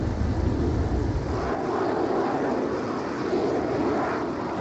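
Fixed-wing aircraft in ARMA 3 accelerating down the runway and rotating near 160, a steady loud engine roar with heavy low rumble that eases slightly as it lifts off, no voices.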